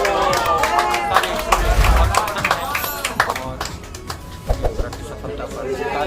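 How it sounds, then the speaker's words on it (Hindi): A group at a Swiss glacier site, Glacier 3000, claps and cheers after a successful trip, with scattered close handclaps, footsteps and lively chatter throughout. "सफलता पर तालियां बजाकर अपना उत्साह और आनंद प्रकट कर रहे हैं।"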